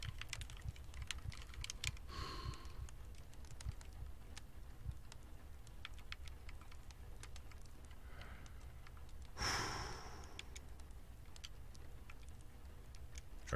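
Computer keyboard and mouse in use during a Twitch stream of the game Don't Play With Dolls, with rapid scattered key clicks throughout, close and fairly quiet, and a few breathy sighs or gasps mixed in.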